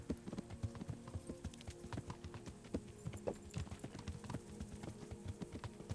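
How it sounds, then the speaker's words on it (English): Horse hooves clip-clop in a steady, even walking rhythm in the medieval game Kingdom Come: Deliverance, soft and fairly distant over a low background hum. "Esto que sigue aquí el caballo de Bernard, ¿verdad?"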